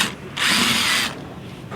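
A power screwdriver whirs for about a second while backing screws out of a guitar amp, a steady close motor buzz between short quiet gaps.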